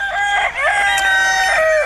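A Limousin fishing-fly rooster, a pardo breed cock with a bold, combative temperament, crows one long drawn-out cock-a-doodle-doo, loud and close, with no other sounds around it.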